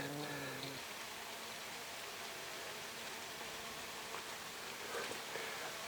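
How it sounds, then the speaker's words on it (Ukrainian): Rain falls outdoors during a bumblebee flight check, a faint, even hiss that continues unbroken with no voices over it. "дощ посилюється"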